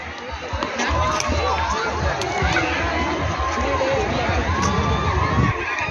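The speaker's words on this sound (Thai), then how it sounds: "กองเชียร์ของตุ้มคึกคักอย่างยิ่ง" A football cheering squad shouts and cheers in a busy, continuous crowd roar mixed with children's excited voices and chatter, with people talking throughout.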